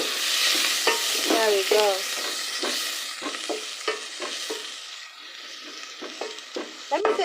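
Spices being stirred into browned onions frying in a pan for a Kenyan soya chunks dish, with steady sizzling under repeated scraping stirs, close and loud, and a voice speaking briefly near the end.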